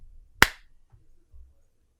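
A single sharp hand clap rings out alone in a quiet room, struck once as a sync marker, with only faint low rustle before and after.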